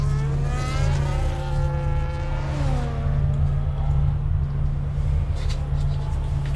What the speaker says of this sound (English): Here's is the Alpine getting the overtake on Isaac.